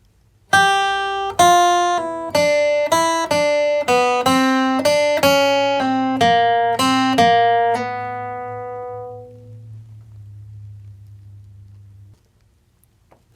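Acoustic guitar picks a bright country bluegrass lick in G, about a dozen crisp single notes in a quick run over a low ringing bass string that sustains and fades out, played alone and close.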